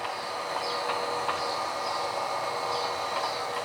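A steady rumbling rolling noise with faint squeals, like a small train running continuously along track, constant in level with no talking.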